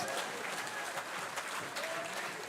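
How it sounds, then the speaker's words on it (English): Delegates at a New National Party General Council meeting give Brother Cox a round of applause after his political speech, a steady wash of clapping from a crowded hall, heard fairly faint and distant throughout. "Give Brother Cox a round of applause"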